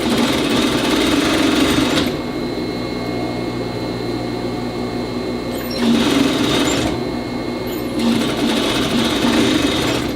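Sewing machine stitching stretchy t-shirt fabric for a vest, a steady close mechanical whir running in three bursts separated by brief pauses, with no talk over it.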